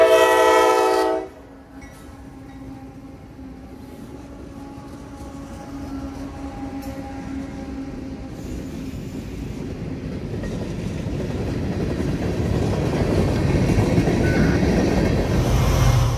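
A CSX freight train led by locomotives rolls into a rail yard: a short horn blast opens, then a low rumble and rolling wheel noise slowly build louder.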